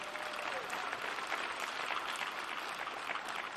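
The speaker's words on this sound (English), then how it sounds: "give all the faculty and staff a round of applause" A commencement audience at Manchester Community College applauds faculty and staff with dense, sustained clapping that stays even and fairly distant throughout.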